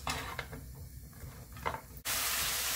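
Zucchini stir-frying in a little oil in a pan over medium heat: a quiet, rustling texture suddenly becomes a loud, steady broadband sizzle that runs to the end.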